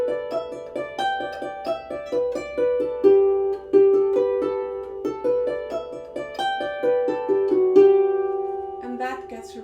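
The A part of an Irish session tune is played back as a lively run of clear melodic notes in a bouncy rhythm, with no talking over it.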